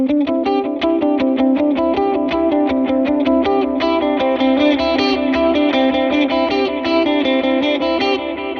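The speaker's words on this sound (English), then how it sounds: "The other guitar does a clean arpeggiated," A clean electric guitar picks a fast, evenly repeating arpeggio with a synth-like, slightly effected tone, loud and alone, each note ringing into the next in a steady rhythm.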